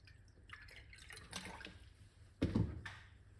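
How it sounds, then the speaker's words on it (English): Water is poured into a glass already holding about 1.5 teaspoons of apple cider vinegar, a short, soft splashing trickle with brief drips and a louder gush near the end. "We're going to pour some water into it like this."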